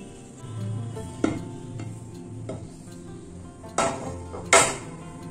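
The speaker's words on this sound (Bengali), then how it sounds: "এবার আমি মিশ্রণটাকে কড়াই থেকে নামিয়ে একটা প্লেটে নিয়ে নিচ্ছি।" A flour and semolina sweet mixture is scraped from a wok onto a plate, giving soft scraping with several sharp metallic knocks of utensil against pan.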